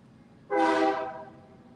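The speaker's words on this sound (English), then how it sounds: "here comes a train" A train horn sounds one sustained, loud harmonic blast that swells in abruptly and then fades gradually as the train passes, over a low steady background rumble.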